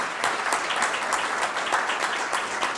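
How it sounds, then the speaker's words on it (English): Continuous applause fills the room at a veterans recognition breakfast, a crowd clapping at even strength with a fairly loud, uniform crackle throughout and no voices heard. "I think he deserves another round of applause"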